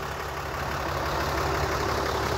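A 2018 Dodge Ram 3500 Laramie crew cab with a 6.7 Cummins diesel engine idles close by, a steady low rumble with a faint rhythmic knock throughout and no speech.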